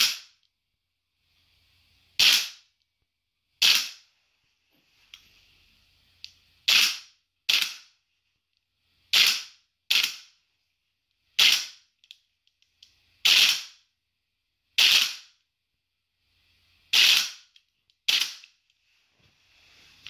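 A GBLS GDR15 DAS M4 gel blaster fires about a dozen sharp, loud single cracks indoors at irregular intervals, each followed by a short mechanical rattle, with quiet between shots.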